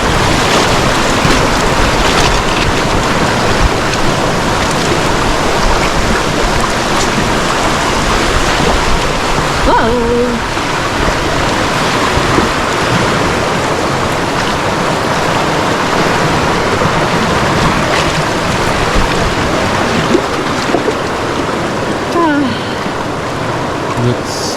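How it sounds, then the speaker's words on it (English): Constant loud rushing water roars without a break, a dense wash of white noise filling the whole stretch. "Waterfall."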